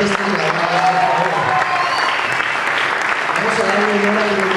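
Audience applause for a guest at an event, a continuous crowd of clapping hands with voices and tones mingling underneath throughout.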